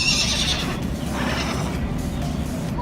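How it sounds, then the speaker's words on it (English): Pony neighing at a petting zoo, a loud, close whinny at the start followed by a steady mechanical, ratcheting hum with faint background movement and no talk. "He was neighing not too long ago."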